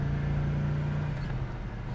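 A 1970 Pontiac GTO engine drones steadily from inside the moving car, a low even hum with slight rise as it pulls through the gears, heard alone without talk.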